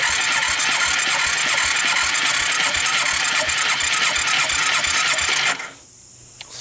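Suzuki King Quad 300 4x4 ATV engine running steadily and loud close by for several seconds, a busy mid-pitched mechanical clatter that cuts off abruptly near the end, leaving faint quiet.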